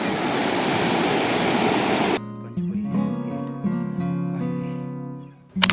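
Loud, steady rushing of a river swollen and muddy after heavy rain fills the first couple of seconds, then cuts abruptly to quieter tonal sounds.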